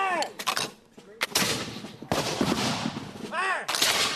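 Musket volleys at a War of 1812 reenactment: several loud, sharp gunfire bursts with long rumbling tails, close by, mixed with shouted commands.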